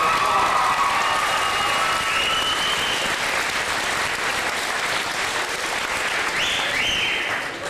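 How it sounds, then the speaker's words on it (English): A gathered audience in Carberry, Manitoba gives loud, sustained warm applause, dense clapping with a few cheers and whistles, fading slightly at the end. "Please give them a warm applause."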